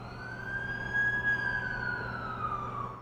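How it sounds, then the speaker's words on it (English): An ambulance siren wails steadily with a slow rising and falling pitch, close and loud over low traffic rumble, continuing throughout without any talk. "That's the ambulance I called."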